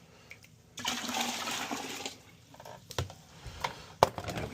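Water pours out of a water heater's drain tray into a sink, a sustained splashing gush that rises suddenly, then thins into trickles and a few sharp drips, close by and moderately quiet.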